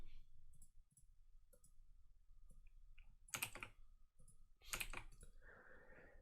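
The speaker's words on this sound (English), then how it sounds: "if I can type correctly" Keys clacking on a computer keyboard in short scattered bursts, with two louder clustered flurries of typing near the end over a faint low background hum.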